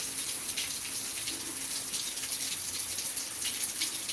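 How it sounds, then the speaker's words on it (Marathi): Rainwater after a downpour in Beed streams along a road, a continuous broad rushing wash that stays steady and close throughout, with no voices. "आता लगेच रस्त्याला जे पाणी आहे ते वाहत आहे"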